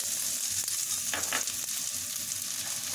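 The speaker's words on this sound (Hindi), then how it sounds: "अब हमारा ऑयल गर्म हो गया है, तो अब सबसे पहले हम इसमें प्याज डाल देंगे" Onions are frying in hot oil for spring roll stuffing, a steady close sizzle with a few short bursts of stirring noise, no voices.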